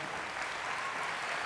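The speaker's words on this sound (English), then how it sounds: "How about another big round of applause for Parker and Dan?" Steady, dense applause from a large conference audience at a CEO keynote in Las Vegas, a continuous wash of clapping with no pauses, moderately distant.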